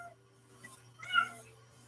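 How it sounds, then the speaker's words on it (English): Single short cat meow, faint and somewhat distant, over a low steady hum with no talking. "Your cat."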